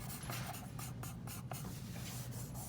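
A charcoal pencil scratches across paper in short, repeated strokes, close and soft, building up shading layer by layer with steady rhythmic rasping and no voices.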